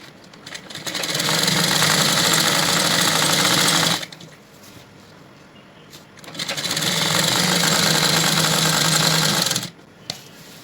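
Sewing machine stitching a baby bloomer, running loud and steady in two long bursts of rapid mechanical whirring, with a brief quieter pause between them.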